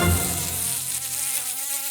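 Biting insects buzz in a steady, close, high whine that holds for about two seconds with no talk over it.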